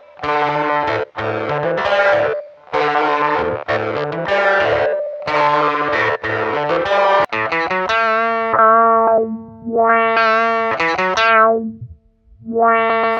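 Electric guitar run through a KORG Kaoss Pad KP3 grain and loop effects, loud and processed, with choppy stuttering bursts of chords giving way to sustained, shimmering looped notes that swell and cut out near the end.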